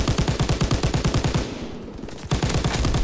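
Rapid machine gun fire in Call of Duty WWII, loud and close. Two sustained bursts of evenly spaced shots are separated by a brief pause about a second long.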